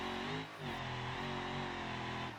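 A truck engine in the video game BeamNG revs hard and steady during desert racing, a sustained high-pitched drone with harmonic whine, briefly dipping before climbing again; no voices.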